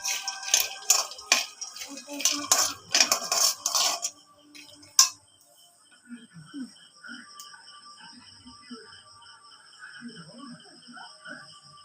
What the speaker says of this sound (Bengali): শুকনো কড়াইতে বাদাম ভাজা করছি